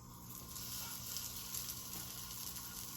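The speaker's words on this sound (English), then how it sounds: "And now we put the pupusa on the skillet" A pupusa fries on a hot skillet with a faint, steady hiss and sizzle and no talking.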